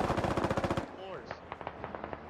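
Rapid automatic gunfire rattles in a fast burst in a first-person shooter game, then gives way to scattered single shots and faint in-game effects.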